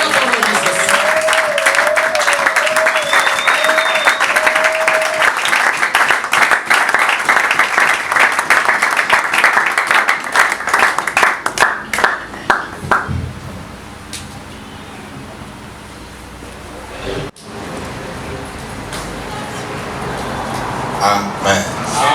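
A church congregation at a fifth-anniversary service in Durban, South Africa, claps and applauds loudly for about twelve seconds, the sustained applause thinning into scattered claps and murmurs, with voices and ambient noise following.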